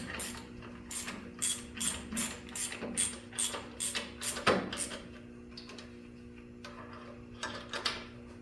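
Ratchet cranking bolts while a starter goes onto a 1974 Dynastar lawn tractor, quick close metallic clicks in bursts with a few knocks, then sparser clicks, quiet overall with no talk.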